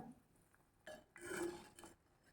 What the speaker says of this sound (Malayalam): അടപ്പൊന്ന് തുറന്ന് നോക്കാം.